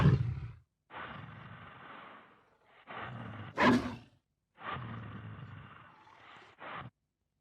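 Creature sound effects: a deep growling bark cutting through rough, rasping breaths, a few bursts in a row with short gaps between them, fairly quiet overall.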